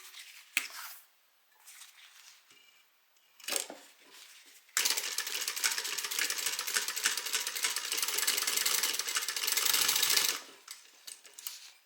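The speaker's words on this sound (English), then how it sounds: "open the seam up and top stitch on both sides to hold that seam allowance down." A sewing machine top stitching both sides of an opened seam on an evening bag: a few short stitching bursts and taps, then a steady, loud run of rapid stitching lasting several seconds before stopping.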